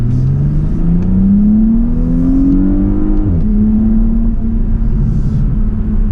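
2018 Porsche Panamera 4 Sport Turismo driven in sport mode, a loud, continuous cabin engine drone and road rumble whose pitch climbs steadily, drops sharply at a shift, then holds steady.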